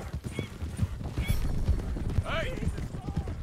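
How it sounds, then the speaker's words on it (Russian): Horse hooves clip-clopping in Red Dead Redemption 2, rhythmic thuds under game sounds and close talk, with a brief whinny-like cry partway through. "Кстати, лошадь неплохая, довольно быстрая."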